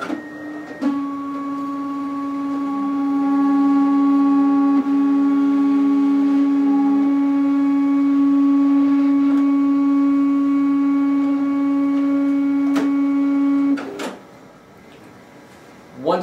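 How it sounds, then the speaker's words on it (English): A Zebra ZXP Series 8 card printer feeds a cleaning card, producing a steady mechanical whine with sustained tonal hum for about thirteen seconds between short clicks at the start and end. "Now insert the card into the front feed slot."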